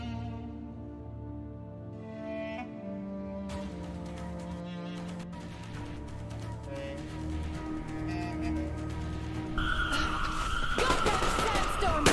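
An enemy vehicle approaches in Metro Exodus combat with a rising engine growl and tyre skidding amid game noise, ending in a loud harsh burst.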